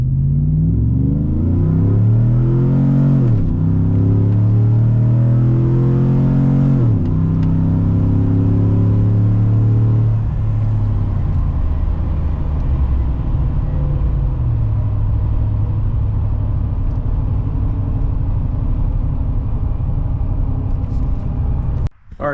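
Chevrolet Silverado 1500 pickup with a custom stainless exhaust accelerating hard from a stop to 60, loud deep engine rumble climbing through several gear shifts, steady and continuous, heard close from inside the cab.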